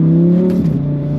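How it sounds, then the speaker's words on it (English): Lamborghini Huracan EVO rear-wheel drive with a V10 engine, a loud, close, steady harmonic drone that sags slightly in pitch partway through and holds on. "you'll never get this V10 sound again"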